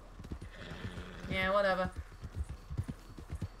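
Horse hooves clip-clop steadily through a Red Dead Redemption 2 game scene, joined partway by a loud whinny, while voices talk over the rhythmic footfalls.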